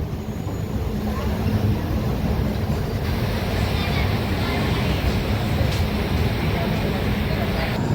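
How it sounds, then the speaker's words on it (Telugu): Falaknuma Express from Howrah pulling into platform 6 at Secunderabad railway station, a steady, loud rumble of rolling train and station noise that holds for the whole stretch without a break. "ప్లాట్ఫామ్ నెంబర్ 6 మీద ఇప్పుడే హౌరా నుంచి సికింద్రాబాద్ ట్రైన్ అయితే వచ్చింది, ఫలక్నామా ఎక్స్ప్రెస్"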